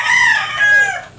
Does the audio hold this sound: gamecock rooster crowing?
yes